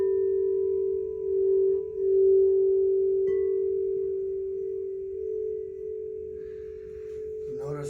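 Combined throat and third eye chakra healing tones form a steady, pure sustained hum that holds at one pitch throughout, with faint background noise and a soft rising sweep near the end.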